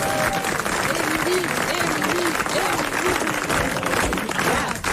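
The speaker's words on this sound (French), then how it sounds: "Applaudissez-le" Studio audience applause on a 1988 French television talk show, a steady dense wash of clapping running throughout with a host's voice talking over it.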